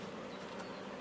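Honey bees hum at a beehive in a steady, dense buzz, fairly faint and continuous throughout.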